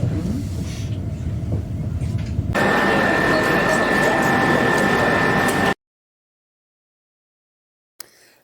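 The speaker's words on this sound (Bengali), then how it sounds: "আর এটা দ্রুতগামী ট্রেন" A high-speed train arriving at Milan runs with a steady loud rumble and rush that swells midway, then cuts abruptly to silence before a brief faint return.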